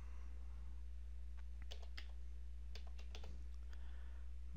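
Quick clicks of typing on a computer keyboard come in two short bursts of keystrokes while a name is entered, close and fairly crisp over a steady low electrical hum.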